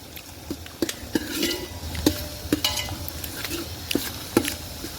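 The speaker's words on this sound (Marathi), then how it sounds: "आता कांदा परतून घेतोय आपण" Chopped onions sauté in a pan on an outdoor stove, a soft sizzle broken by regular scraping and clinks of a spoon stirring against the metal.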